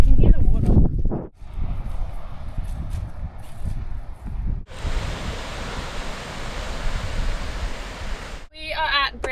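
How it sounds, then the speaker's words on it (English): Ocean waves wash continuously onto the shore at Dolphin Bay beach on the Yorke Peninsula, a loud, steady broadband roar with surges, broken by brief wind buffeting and some handling noise at the start and end. "You can hear the water."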